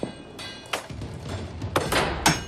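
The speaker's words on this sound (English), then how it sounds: "this crew hammers home some 700 rivets" A construction crew hammers rivets on a 19th-century Canadian project: sharp metallic strikes ring out irregularly against a busy worksite background, some near and loud, others further off.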